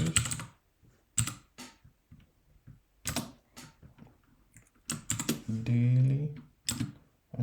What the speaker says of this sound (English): So I'm going to type it down, weekly bullish